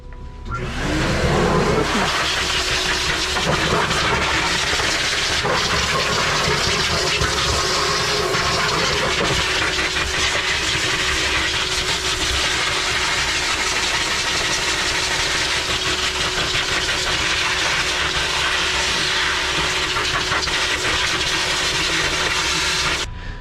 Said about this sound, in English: I'm gonna start with the fluff dryer and just the fluff dryer